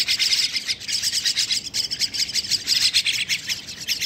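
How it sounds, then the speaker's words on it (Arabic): Many myna birds chirp and tweet continuously in a dense, high-pitched chorus, loud and close, with no voices. "طيور مال سليمانية"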